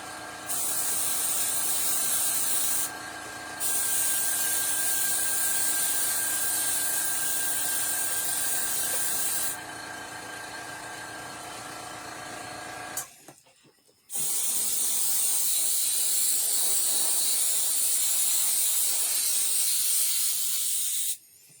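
Airbrush spraying paint onto a Kessler werewolf figure, a loud steady hiss in long bursts with short pauses, cutting out briefly before a final sustained spray.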